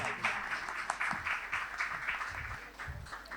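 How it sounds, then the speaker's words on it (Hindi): A mushaira audience applauds the poet Umair Najmi, producing a continuous patter of many hands clapping at moderate distance, faint but steady throughout. "उमैर नजमी के लिए तालियां।"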